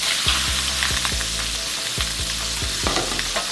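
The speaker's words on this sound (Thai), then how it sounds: "นำปลาหมึกที่เตรียมไว้เนี่ยลงไปผัดกับกระเทียมเจียว" Squid stir-fries with fried garlic in a hot pan: loud, close sizzling with a rhythmic series of spatula scrapes and strokes repeating about every half second.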